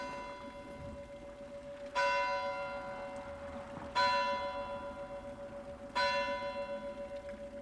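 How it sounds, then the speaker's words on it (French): A bell in the tower of a 16th-century church in the Alpes-Maritimes strikes three times at even intervals. Each rich, ringing stroke decays slowly before the next, heard clearly with no voices. "cette splendide église du XVIe siècle dont le clocher possède 5 cloches"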